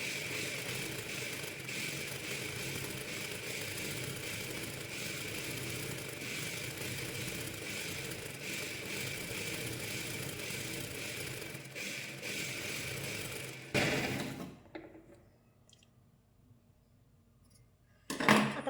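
An electric sewing machine stitches a folded fabric strip for a katori blouse, giving a steady, close mechanical whir for about fourteen seconds before it stops, followed by a few brief handling knocks.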